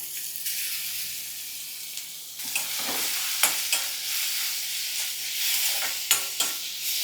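Loud, steady sizzling of cumin, curry leaves and spice masala frying in hot oil, with sharp crackles and pops breaking through now and then.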